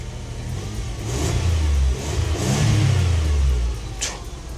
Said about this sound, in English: let's accelerate and see if the engine fluctuates or acts any type of way